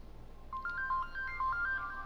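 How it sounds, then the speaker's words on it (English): A phone rings with an incoming call from his wife, a repeating electronic tone pattern of short beeps, fairly clear over a low steady hum, with no talking. "My wife is on the phone. I'm about to take this call"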